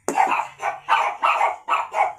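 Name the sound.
dogs barking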